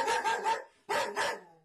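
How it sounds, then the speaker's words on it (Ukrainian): Dogs in a cluttered, neglected house bark in two quick bursts, each made of several close, loud barks separated by a short pause. "У захаращеному приміщенні бігають собаки."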